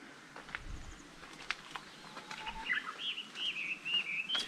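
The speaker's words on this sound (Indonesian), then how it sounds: "Burung-burung, kalian bisa dengar suara burung." Birds chirp and sing at dawn along a quiet main road through mountains in rural Japan, bright overlapping calls building toward the end over a soft outdoor background with a few faint footstep-like taps.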